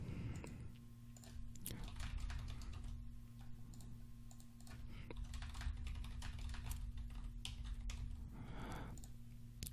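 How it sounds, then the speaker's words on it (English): Steady typing on a computer keyboard, a dense stream of light key clicks going on throughout at a moderate, even level, with a faint hum underneath. "now let me start typing some messages."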